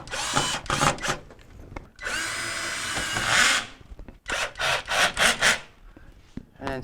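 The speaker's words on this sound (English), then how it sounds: "We're going to put our screws in the top first." A power drill drives screws into the back panel of a GE refrigerator during a heater assembly repair, with several whirring bursts of varying length separated by brief pauses, loud and close.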